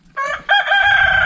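A single loud rooster crow rings out close by, a short two-part call with no other sounds around it.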